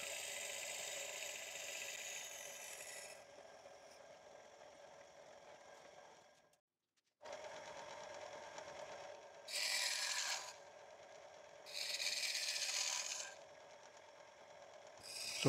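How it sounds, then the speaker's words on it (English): A wooden lidded box being bored out at its center on a lathe: steady grinding and rasping cutting noise, with a brief pause and then louder bursts of harsh scraping as the tool bites in. "So I bore the center out now, and then I use other chisels just to hollow out the bottom of the box."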